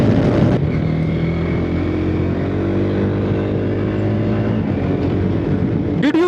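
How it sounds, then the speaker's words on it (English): A TVS Apache RTX 300 motorcycle ridden at around 100, its engine a steady, loud droning hum that holds nearly constant, with a brief shift just before the end. "Did you see the way I was able to flick that bike and get it back up?"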